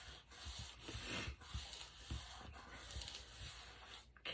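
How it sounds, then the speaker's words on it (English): Paper being burnished down along a fold line while making a small journal, repeated close rubbing strokes at an even pace. "put this right over and burnish it down"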